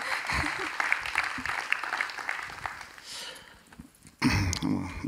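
Applause from a cinema audience at a post-screening talk with a film director, a steady broadband patter that fades toward the end, then a brief louder burst of noise and handling.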